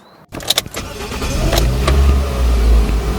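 A Toyota WiLL Cypha, a small car built on the Vitz, starts up with a short crank, then settles into a steady, close, loud engine drone.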